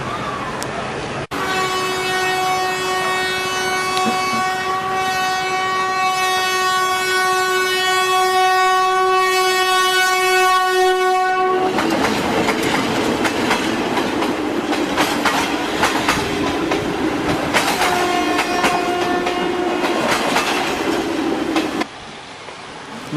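Train running on rails, with a long steady horn blast at the start, then rumbling wheels and rhythmic clacking close by, the horn sounding again briefly later.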